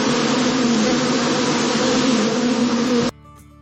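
Drones fill the air with a dense, continuous buzzing much like a swarm of bees, loud and steady, then cut off abruptly, leaving near silence.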